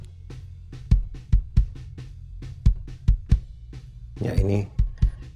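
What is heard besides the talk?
kick drum with processing turned off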